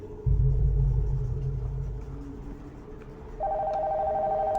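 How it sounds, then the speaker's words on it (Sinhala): In the horror game Nocturnal Visit, a low rumble fades before a phone upstairs begins ringing, its steady electronic tone continuing to the end. "මට කෝල් එකක් එනවා."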